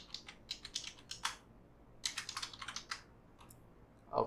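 Typing on a computer keyboard, with quick clusters of close, crisp key clicks in two bursts separated by a short pause, fairly soft.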